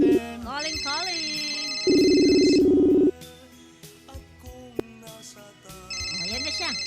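A telephone rings for an incoming call during a Filipino live call-in show, with bright trilling ring bursts alternating with a lower buzzing tone, loud and close, and a voice heard between rings.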